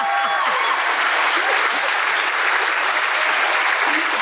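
Steady, loud applause from a university audience at a State of the University address, continuous clapping filling the room for several seconds.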